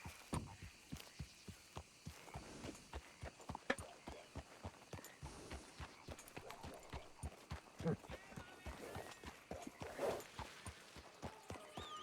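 Horse hooves in the Red Dead video game clip-clop in a steady, quick rhythm of sharp knocks at close range, running the whole time with faint voices in the background.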